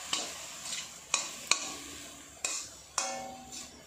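Mixed vegetables with chopped tomato and salt cooking in a dry pan without oil, giving a soft steady sizzle broken by about six sharp stirring scrapes at irregular intervals.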